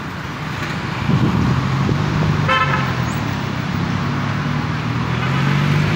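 Street traffic around the type A bus terminal in Batoh, Banda Aceh: a steady roar of passing vehicles and wind, with a short honking car horn near the middle and a low engine drone throughout.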